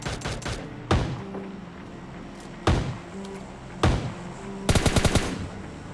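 Gunfire in the mobile battle-royale game PUBG Mobile Lite, with single loud shots spaced apart and a closing rapid burst of automatic fire. Faint humming game background sits between the shots.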